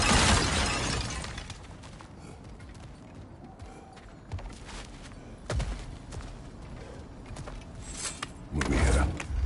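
Objects smashing and breaking in a video game, with a loud crash at the start, scattered cracks and thuds through the middle and another heavy smash near the end, all amid game ambience.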